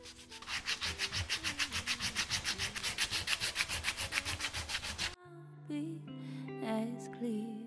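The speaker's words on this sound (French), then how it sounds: "Un petit ponçage léger peut souvent ramener leur éclat d'origine" A wooden fork is sanded by hand in rapid back-and-forth strokes, a steady rhythmic rasping for about five seconds before it stops and soft tonal background sounds take over.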